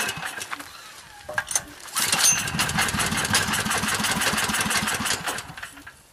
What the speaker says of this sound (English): the gas production may not be at high enough rate to keep the engine running